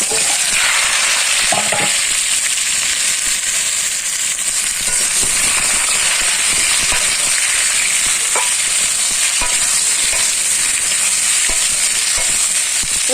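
Whole spices and cut pumpkin frying in hot oil give a loud, steady, close sizzle with crackling pops throughout, no talking.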